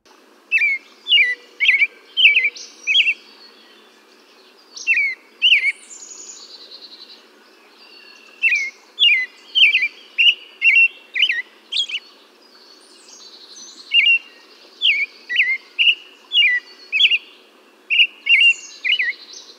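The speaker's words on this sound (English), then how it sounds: "an American robin from 60 feet away" An American robin sings in short caroling phrases of clear, liquid whistled notes, repeated in bursts with brief pauses, about 60 feet away over a faint background, recorded with a parabolic microphone.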